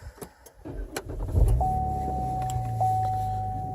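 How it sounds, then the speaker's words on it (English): A car engine turns over and catches, settling into a steady idle that sits close and loud, with a sustained whine running over the running engine. "I'm going to start the car."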